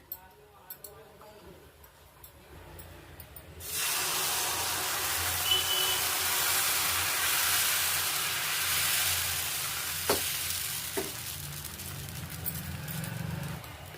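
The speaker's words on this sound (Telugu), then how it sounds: "ప్యాన్ హీట్ అయిందండి. ఇప్పుడు దోశలు పోసుకుందాము." Wheat rava dosa batter hits oil on a hot pan and sets off a loud, steady sizzle that holds for about ten seconds, with a few faint clicks.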